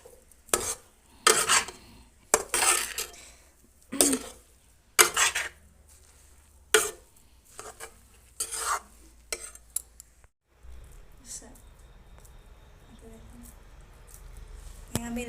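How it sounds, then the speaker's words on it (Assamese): Grated coconut is stirred and fried in a pan for Assamese Bihu laru sweets, with loud intermittent scraping strokes of a spoon against the pan, then a quieter stretch of soft sizzling and clinks near the end. "এতিয়া আমি নাৰিকলৰ লাৰুৰ কাৰণে নাৰিকলখিনি ভাজি আছোঁ"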